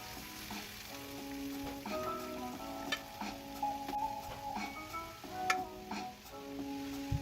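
Bell peppers sizzling and frying in a pan after onions, with a steady broadband sizzle, intermittent clinks and scrapes of stirring, and a faint musical tone running underneath throughout.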